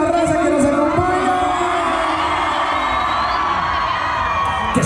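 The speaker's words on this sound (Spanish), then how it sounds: "¡Échense un grito de toda la raza que nos acompaña!" A crowd at the Santa Ana Chiautempan fair in 2024 shouting, whooping and cheering loudly together, a dense roar of voices sustained throughout with some individual yells rising above it.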